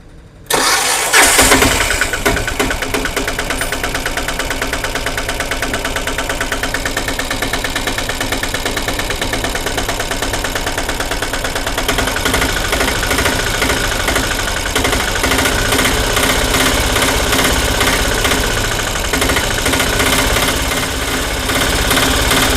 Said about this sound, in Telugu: ఇప్పుడు బండి స్టార్ట్ చేసి ఒకసారి మనం బీడింగ్ అబ్జర్వ్ చేసి అసలు స్టార్టింగ్ ఎలా ఉంది అని చెక్ చేసిన తర్వాత మాట్లాడదాం